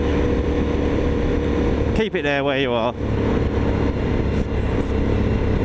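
A Honda VTR1000 SP1 V-twin sport motorcycle engine drones steadily and loudly at 4000 rpm throughout, with a brief stretch of speech cutting over it midway.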